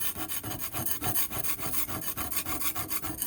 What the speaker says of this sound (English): look how easily I just clean this thing just by scrubbing it with